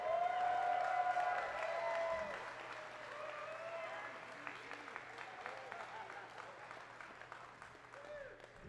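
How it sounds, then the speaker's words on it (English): Audience applause fills the hall at the ENNIES 2024 awards ceremony, loud at first with a whistle over the clapping, then thinning into scattered claps as people murmur. "I need you to give a round of applause as we bring up the next presenter, Mark Diaz-Truman."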